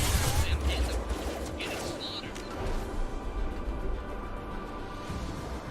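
Video game gunfire from Mass Effect 2, a dense burst of shots loudest at the start, then continuing as a steady rattle of combat noise through the rest of the moment, with a voice talking over it.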